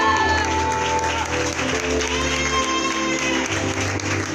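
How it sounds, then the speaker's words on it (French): A church congregation at a French-language conference gathering cheers and claps steadily for a speaker, loud sustained applause with shouts, and music playing underneath. "Est-ce qu'on peut acclamer cette brûlée?"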